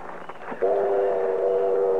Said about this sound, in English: The train's pulling in.